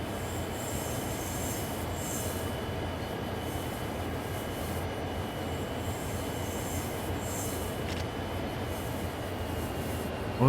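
A BNSF SD40-2 diesel locomotive on low throttle pulls a freight train in Train Sim World 3, a steady rumbling engine drone with rolling wheel noise and faint high squeal, continuous and close.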